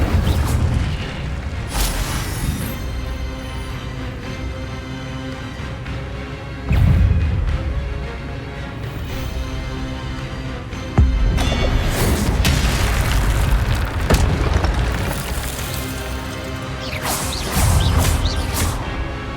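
Fire spell blasts in the Hogwarts Legacy game, heavy booming impacts and crashes over a continuous loud battle soundscape, with sharp bursts near 7, 11 and 12 seconds.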